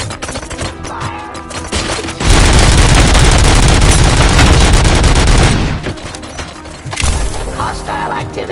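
Sustained rapid gunfire from a video game, a dense loud fusillade of machine-gun bursts lasting several seconds, then a short quieter gap before another burst starts.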